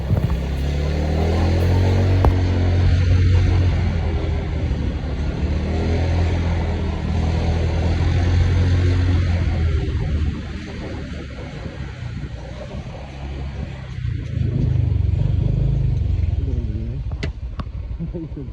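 A motorcycle climbs a hill with a rough engine drone that rises and falls as it works up the slope. The noise is loud and close, mixed with wind buffeting.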